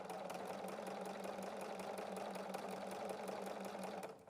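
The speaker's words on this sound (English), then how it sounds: "And it's going to sew 12 stitches and then make a tuck." A BERNINA sewing machine fitted with a ruffler foot runs steadily, giving a close, even mechanical whir with a fast stitch rhythm that continues for about four seconds before winding down at the end.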